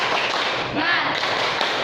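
Students perform the 'tepuk semangat' rhythmic clapping chant in a classroom, a dense, loud wash of many hands clapping together with no clear gaps.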